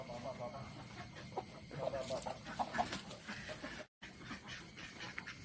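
An old hen about three and a half years old, kept on a small farm with ducks and roosters, clucks in short bursts amid steady background noise, with a brief gap near the end.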